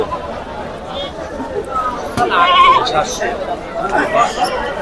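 Goats bleating at a busy livestock market for large castrated goats in Jhikargachha, with short calls rising out of crowd chatter and voices nearby.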